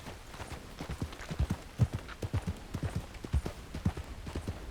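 Rhythmic clip-clop of a horse's hooves in a video game, moderately loud and steady throughout with no voices.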